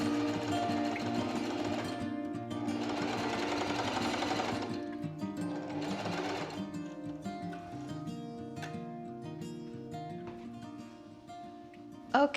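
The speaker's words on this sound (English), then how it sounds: "I need to do a basting stitch on the top of these ruffles" A sewing machine running a long basting stitch along the top of fabric ruffles, a fast steady mechanical whir in a few sustained bursts with short pauses, close and clear.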